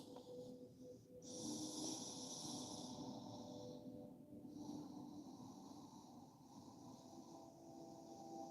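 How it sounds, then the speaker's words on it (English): Slow, quiet nasal breaths during a yoga child's pose, one long airy inhale-exhale hiss standing out early and softer breathing following, close and alone with no speech. "breathe through your nose"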